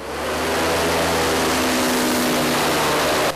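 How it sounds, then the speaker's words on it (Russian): Aerosled propeller engines roar across the frozen Volga river at Saratov, a loud, steady broadband drone with a low humming tone that holds evenly before cutting off abruptly. "Шум моторов, большая скорость и крутые виражи по замерзшей акватории Волги"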